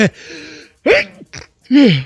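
A couple of sharp, abrupt sneeze-like bursts with gasping intakes, close and loud, separated by short silences.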